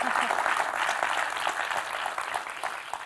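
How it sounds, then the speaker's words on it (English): An audience at a product launch event applauds in a dense, sustained burst of clapping that slowly thins toward the end, with faint voices mixed in. "So let's give them a round of applause."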